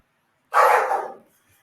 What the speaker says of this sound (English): my dogs are in the back over there.